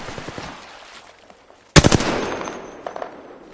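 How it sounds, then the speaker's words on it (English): Video game gunfire: a sudden sharp volley of rapid shots bursting in after quieter scuffling, then a lingering echoing tail with a few further cracks, loud and close. "Firing."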